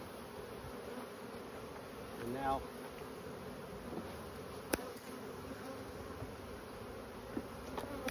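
Honeybees buzz steadily around an open hive during colony reduction, a constant droning swarm hum with a few closer passing buzzes and occasional clicks. Someone speaks briefly.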